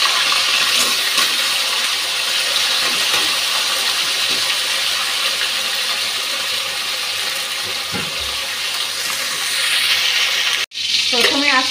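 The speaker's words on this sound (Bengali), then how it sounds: "বেগুনটা ভাজতে দিয়ে দিচ্ছি।" Aubergine sizzles steadily as it fries in a pan for fish curry with potato, a dense continuous crackle throughout, with a brief utensil clatter near the end.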